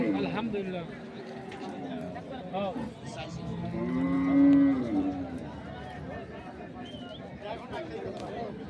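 Several cows, including Sahiwal, Sindhi and local dairy breeds, low and moo amid a busy cattle market crowd, with people chattering nearby throughout and a long, loud moo in the middle.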